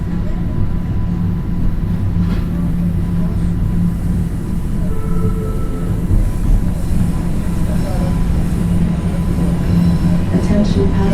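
A Toronto TTC subway train runs along the track with a loud, steady rumble and roar, faint wheel squeals and rattles rising over the low drone throughout.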